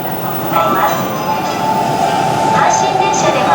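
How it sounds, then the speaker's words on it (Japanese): A Hanshin Railway local train bound for Osaka-Umeda rumbles into an elevated-line station near Koshien and Mukogawa, a loud, steady rolling drone with light squeals, while a platform announcement voice plays over it. "到着の電車は各駅停車大阪梅田行きです。"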